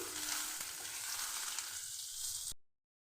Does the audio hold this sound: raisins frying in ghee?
yes